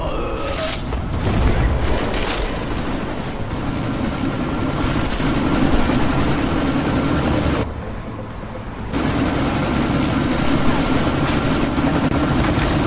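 A helicopter in a sci-fi action film hovers amid a sandstorm, its loud, continuous rotor and engine roar filling the scene, briefly dipping in level before surging back at full strength.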